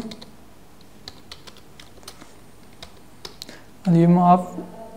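C code being typed on a computer keyboard as scattered, close, crisp key clicks, followed by a short burst of speech at the end.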